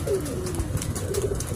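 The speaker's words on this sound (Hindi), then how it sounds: "और ये ऊपर कबूतरी एक बैठी है उड़ी हुई किसी की" A pigeon perched on a rooftop at a pigeon-flying club gives a soft, low coo, faint and brief against a quiet outdoor background.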